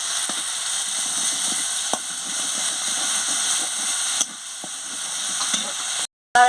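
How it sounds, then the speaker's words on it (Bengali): Masala paste of chili powder and a little water frying in a pan with a steady close sizzle and hiss, with a few light scraping stirs, ending in a short silence. "পটল আলু একটু মশলাটা কষানো হয়ে গেছে"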